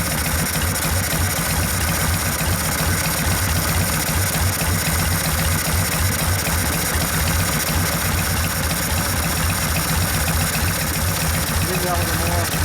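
A 1972 Harley-Davidson XL Ironhead Sportster engine idles while warming up, a loud, close, lumpy thumping beat that runs unbroken throughout, with a voice talking over it.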